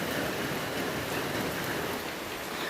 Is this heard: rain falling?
yes